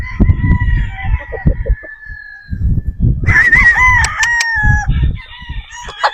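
Gamefowl roosters selected for an expo in Pampanga crow loudly and near, with a long drawn-out crow followed by another overlapping crow, over low clucking and shuffling sounds.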